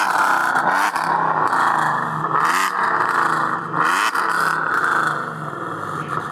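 Catless V6 Mustang with long-tube headers, an X-pipe and an Outlaws muffler revs hard and loud close by, its raspy exhaust rising and falling through several sustained pulls with no one talking.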